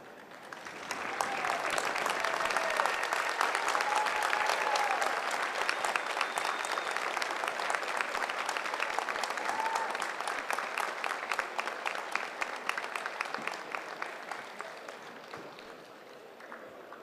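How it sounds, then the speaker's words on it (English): Graduation convocation audience applauds in a large hall, a dense sustained roar of many hands clapping that swells early, holds steady, then tapers off near the end. "join me, please, in a round of applause."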